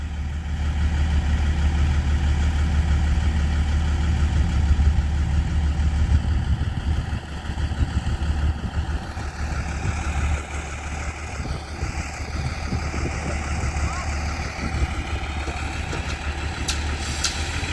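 A railway tower wagon runs on the Purulia–Kotshila double line with a continuous low engine drone and a faint rattle. It stays loud and close throughout.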